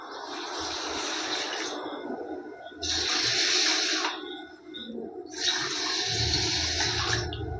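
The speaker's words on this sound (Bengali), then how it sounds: "যে কাপে করে আমি চিনিটা নিয়েছিলাম সেই কাপে করে আমি জলটা দিচ্ছি" Water is poured from a cup onto sugar in three separate bursts, each a few seconds of bright, close splashing and trickling broken by short quiet gaps, with a low gurgle during the last pour and no talking.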